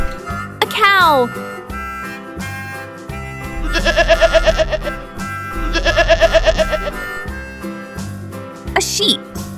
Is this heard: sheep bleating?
yes